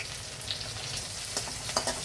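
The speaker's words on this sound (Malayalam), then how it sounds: "കറിവേപ്പില ഇട്ട് വറ്റൽ മുളക് ചെറിയ ഉള്ളി ഇട്ട് മൂപ്പിച്ചിട്ട്" Curry leaves, dried red chilli and shallots fry in hot oil with popped mustard seeds, giving a steady close sizzle broken by a few sharp crackles and spits.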